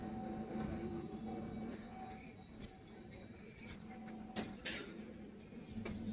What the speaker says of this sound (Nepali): अब हामी ट्रेनमा चढ्दैछौँ